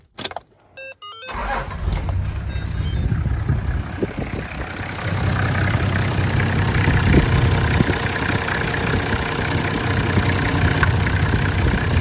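A high-mileage turbocharged Toyota 1HZ diesel engine, fitted with a JB turbo kit, runs after a brief clatter at the start, then settles into a loud, steady, rumbling idle with turbo whine, close up and without voices.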